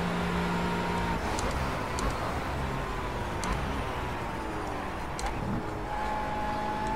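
A race car in Project Cars braking hard and slowing for a corner, its engine note dropping steadily under a continuous roar with faint tyre noise, heard close and loud from onboard.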